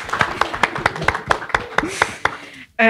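Several people clap in an uneven rhythm during a public talk with author Magyd Cherfi, with voices mixed in, before the claps stop abruptly and a brief louder burst follows.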